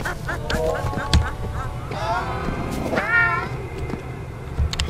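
Cats meow repeatedly in the monster-infested zoo horror game Zoonomaly, several rising and falling wails overlapping in quick succession, fairly loud, with scattered thumps beneath.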